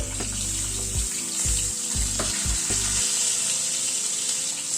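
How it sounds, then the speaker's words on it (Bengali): Potatoes frying in a pan with a steady, close sizzle, while a few heavy thuds and scrapes from stirring break in during the first three seconds. "আলুটাকে আগে একটু ভেজে নিচ্ছি আলুটাকে জাস্ট একটু নাড়াচাড়া করে নিলাম"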